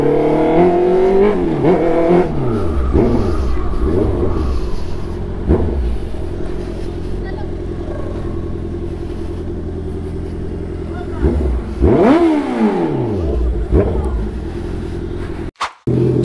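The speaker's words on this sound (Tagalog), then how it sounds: "So tinesting lang naman natin itong big bike mga par. Uy, traffic talaga." A Honda CB650R motorcycle crawls through city traffic, its engine revving up and easing off in rising and falling sweeps over a constant rumble, with other vehicles passing close by and wind buffeting near the end.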